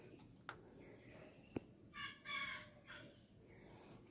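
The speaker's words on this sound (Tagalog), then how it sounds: "tandang natin." A rooster crows faintly in the distance on a small farm, with a couple of short calls over a quiet outdoor background and scattered clicks and knocks nearby.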